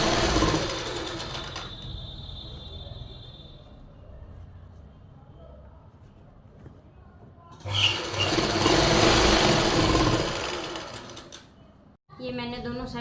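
A sewing machine stitches the lining of palazzo pants in two bursts, a shorter run at the start and a louder run later, with quieter handling noise and a voice in between.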